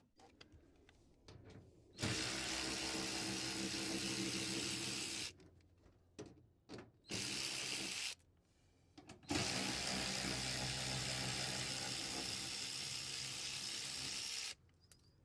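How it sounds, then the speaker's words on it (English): A KIMO 12-volt cordless 3/8-inch ratchet wrench runs in three loud, steady whirring bursts as it takes out and drives back bolts, with short quiet gaps and faint handling noise between runs. "using the KIMO cordless 12-volt ratchet wrench, it's working pretty good. It has just enough power to take out the bolts and put them back in"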